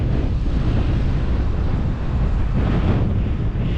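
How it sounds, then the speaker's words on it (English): Heavy wind buffets the microphone with a constant low rumble and roar, steady and loud throughout, with no voices. "It's very windy today, sorry about that."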